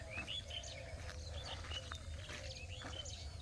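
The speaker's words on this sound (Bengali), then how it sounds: "পাখিও ডাকছে পাখিগুলো খুব সুন্দর" Birds chirping and tweeting repeatedly in a quiet rural morning setting near rice paddies, with faint insect buzz underneath and no talking.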